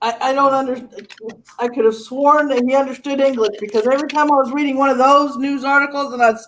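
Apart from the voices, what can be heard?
None of the usual background noises is heard.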